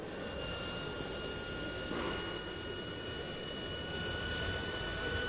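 A Dassault Mirage III fighter jet engine roars steadily and continuously at close range, a broad, even whine and rush with no pauses.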